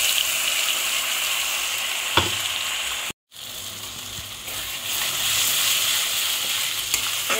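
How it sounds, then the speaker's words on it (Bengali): Paste of onion, garlic, ginger and chilli hitting hot oil left from frying eggs, a steady loud sizzle that runs continuously with one brief dropout midway, close up and with no voices. "ডিম ভেজে নেওয়ার পরে সেই তেলেই আমি এবার এই মশলাটা দিয়ে দেব।"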